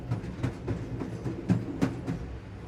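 Train wheels clattering over rail joints in a low, regular clickety-clack rhythm, several distinct thumps spaced through a steady rumble, heard up close and alone.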